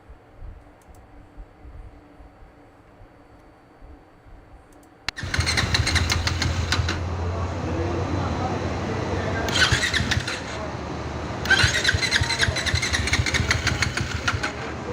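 A motorcycle that has lost all compression and won't start, stranded on a highway: quiet background, then a loud starter cranking and sputtering engine bursts that rise and fall repeatedly without settling into a steady idle.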